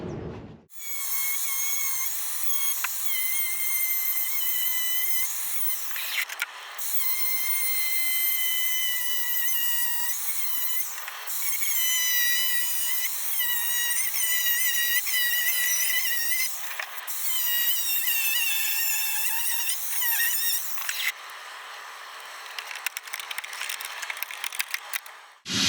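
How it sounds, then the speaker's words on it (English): Angle grinder cutting into a Starlink satellite dish, a loud continuous high-pitched whine with shifting tone, briefly interrupted a few times before trailing off near the end, no voices. "throw the grinder on him and see how we go from there"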